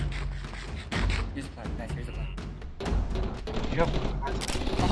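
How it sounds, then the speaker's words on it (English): Gunfire in a Minecraft game session of many players, rapid bursts of shots and thuds overlapping continuously, loud and busy, with voices talking amid the shooting. "All this gunfire attracted some unwanted attention"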